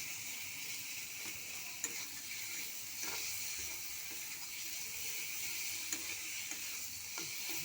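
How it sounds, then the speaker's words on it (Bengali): Spice paste of ground green chili, cumin, onion and ginger sizzles steadily in a pan while being stirred, with faint scraping clicks from the utensil throughout. "মশলাটা কষানো হয়ে গেছে, দেখো"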